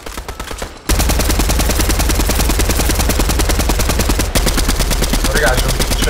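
Rapid automatic gunfire from the video game Fortnite, a loud sustained stream of shots after a brief quieter start, with a short pause near the end and speech faintly present underneath.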